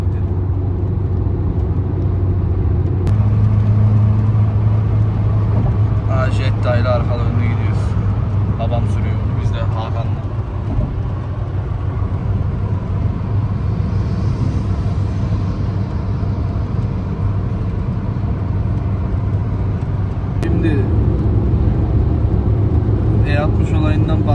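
Volkswagen Jetta on a long road trip, a steady low engine and road rumble from inside the car throughout, with people talking over it.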